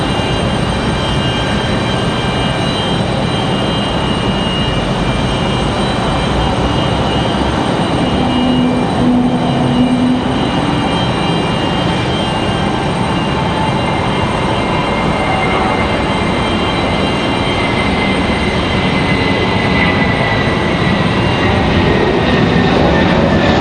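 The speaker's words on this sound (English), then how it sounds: "Nice departure for that A319." An American Airlines Airbus A319 takes off from Raleigh-Durham, its engines roaring loud and continuous with a steady broadband rush and faint tonal whine that hold strongly across the whole stretch, with no voices.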